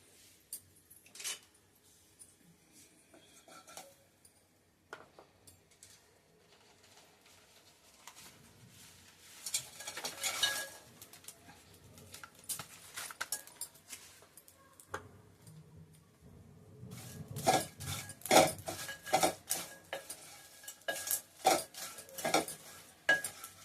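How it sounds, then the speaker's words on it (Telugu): Dried prawns roasting in a pan while being stirred, with scraping and clinking of a spoon against the pan over a soft sizzle, sparse at first and then busier and louder toward the end. "ఫస్ట్ ఈ ఎండు రొయ్యల్ని వేయించుకోవాలి"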